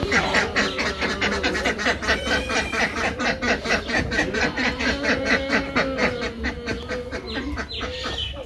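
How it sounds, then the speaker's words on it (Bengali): Village ducks quacking in a lively flock, a dense run of repeated nasal quacks close by with no break, continuing throughout. "নিলয় নিলয়, তোকে হাঁস ছাড়বি না?"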